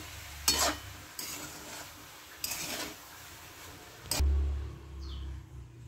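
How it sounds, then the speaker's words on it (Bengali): A spatula stirs egg prawn fried rice in a hot pan. Short scraping and rasping strokes come in separate bursts between quieter moments of low sizzling, heard close. "আস্তে আস্তে করে নাড়বো, নাড়াটা কিন্তু ভালো করে চাই।"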